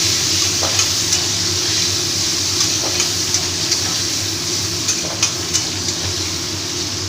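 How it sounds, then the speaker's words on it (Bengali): Even hiss of bitter gourd frying in hot oil over a low steady hum, with a few light taps from stirring. "উচ্ছেটা একটু ভাজা হয়ে গেলে তারপর আমি আস্তে আস্তে সব সবজিগুলো দিয়ে দেবো"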